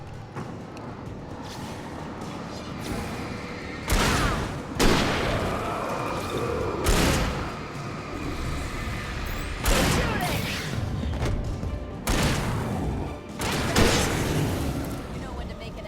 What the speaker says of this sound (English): Keep shooting! Okay, that's a decent moment for one of those grenades.